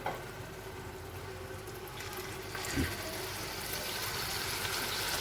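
Chicken curry frying in a pan, a steady, dense sizzle and bubbling that runs without pause and swells slightly toward the end, with no talking.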